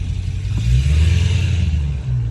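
An 800 hp Dodge Challenger Hellcat Redeye's engine gives a loud, steady, deep rumble that swells slightly and then eases, heard close from outside the car with no voices over it.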